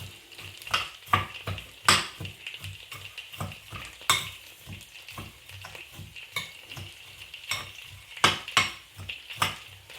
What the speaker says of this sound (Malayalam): നമുക്കിതെല്ലാം കൂടെ മിക്സ് ചെയ്ത് നോക്കാം ടേസ്റ്റ് ഉണ്ടാകുമോ ഇല്ലയോ എന്ന്